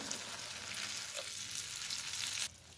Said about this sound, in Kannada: ಇದೆಲ್ಲ ಈಗ ಸ್ವಲ್ಪ ಫ್ರೈ ಮಾಡ್ಕೊಳ್ಳೋಣ ಚೆನ್ನಾಗಿ